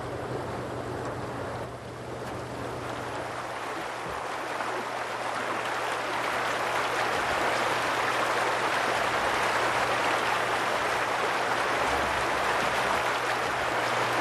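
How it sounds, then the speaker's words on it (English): Red Willow Creek near Taos, fed by melting snow, rushes in a steady, full wash of flowing water that holds at an even loudness throughout, close by and with no voices. "Listen to the Red Willow Creek."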